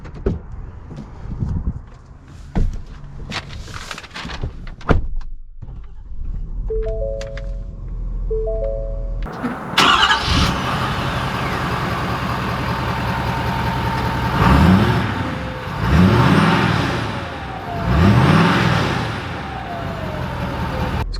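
A 2020 Ford F-450 Lariat pickup truck starts up after a few clicks and beeps, its engine catching loudly and idling before revving in several rising and falling surges as it pulls away.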